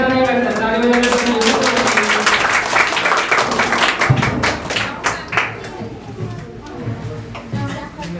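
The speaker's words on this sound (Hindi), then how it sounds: "ताली बजाने में पैसा नहीं लगता" Audience at a school Republic Day celebration breaking into brisk, loud clapping that thins into scattered claps, with someone talking over it.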